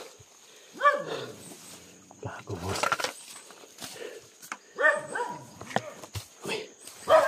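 A dog barks several times at a distance in an outdoor setting, short sharp yaps scattered between people talking.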